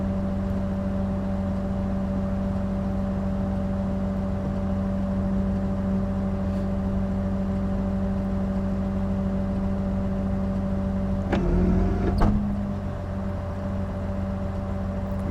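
A winch runs on a truck, pulling a vehicle up onto it with synthetic rope. It gives a steady mechanical hum and whine under an idling engine, and a brief louder creak and thump comes near the end as the rope tightens.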